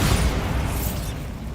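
A Bombarda spell explosion in Hogwarts Legacy, a loud, close boom with a low rumbling burst that fades over about a second and a half.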